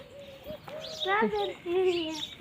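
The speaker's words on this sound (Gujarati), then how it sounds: "કાબર છે આ કાબર અલગ" Myna birds call on a farm with tomato fields, giving a string of whistled, warbling notes and chirps that rise and fall over a couple of seconds, fairly close and moderately loud, with faint background murmur.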